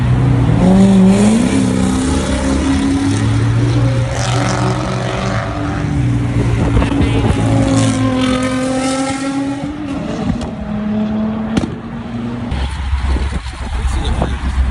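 A Ferrari sports car engine at a Sacramento cars and coffee meet, loud and close, revving in rising and falling sweeps and then idling with a deep burble, with people chatting nearby.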